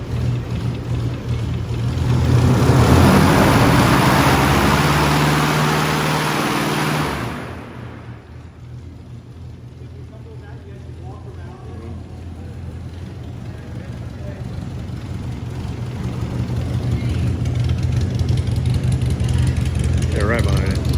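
An older vehicle's engine at a motor museum roars loudly through a rev for several seconds, then drops to a lower idle that gradually builds again, with people talking nearby.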